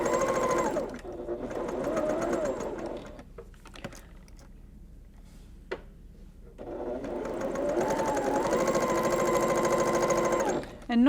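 A sewing machine stitches quilt pieces in a rapid, whirring run, stops for a few seconds of near quiet with a couple of clicks, then starts up again, with a voice speaking at times.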